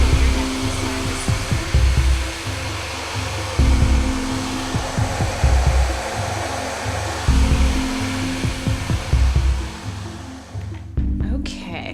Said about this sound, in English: So I just used a diffuser to help dry your hair a little bit.